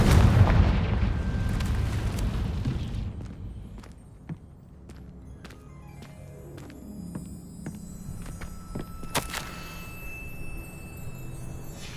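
A Confringo blasting spell goes off in Hogwarts Legacy, a deep booming explosion up front that rolls away into a long rumbling decay, followed by scattered sharp cracks and a lingering hum.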